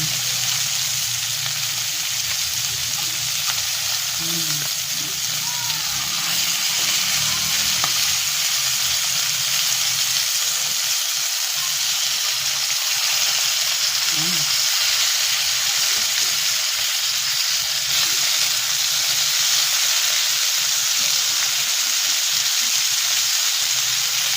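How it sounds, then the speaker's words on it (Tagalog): Sliced red sweet potato fries in a pan with a steady, dense sizzle that holds at an even loudness throughout, with occasional faint stirring clinks. "ayan po ay luto na yung aking pinirito"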